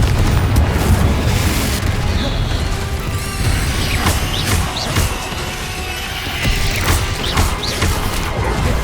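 A Confringo fire spell blasts in the Hogwarts Legacy video game, a loud booming burst amid a dense, continuous wash of battle noise with crashes and magical effects throughout.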